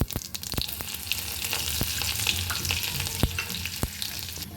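Cumin, chili and garlic sizzle in hot oil for a red cabbage sabzi, a bright crackling fry close by, punctuated by several sharp pops and spoon scrapes.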